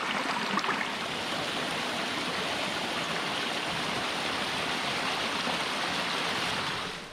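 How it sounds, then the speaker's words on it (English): Water shooting under pressure out of a culvert into a creek on a mountain trail, a dense steady rushing hiss, close and continuous, fading slightly at the very end. "there's enough pressure in that culvert to shoot the water upward"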